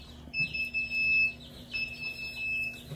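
High electronic alarm beeping steadily in a chicken brooder, two sustained piercing tones sounding over a low background hum, interrupted briefly partway through.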